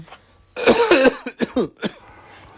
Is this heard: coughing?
yes